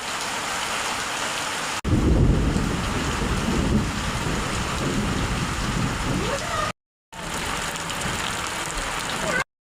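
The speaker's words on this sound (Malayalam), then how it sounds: "ഭയങ്കര മഴയാണ് ഇവിടെ." Heavy monsoon rain pours in a loud, continuous hiss and roar, with a deeper rumble of water and wind after the first couple of seconds and a brief break near the end.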